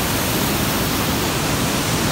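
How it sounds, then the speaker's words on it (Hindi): Loud, steady rush of flowing water fills the scene continuously, a broad unbroken roar near a village market road in a scenic hill setting, with no voices over it. "काफ़ी पानी का शोर भी है।"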